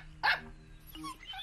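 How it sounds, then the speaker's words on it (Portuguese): A cartoon dog barks once, loud and close, at a kitchen window, followed by quieter yips and soft movement in an indoor animated scene. "Funguinha parou na janela da cozinha e começou a latir."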